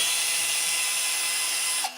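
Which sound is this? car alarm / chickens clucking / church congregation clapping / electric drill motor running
electric drill motor running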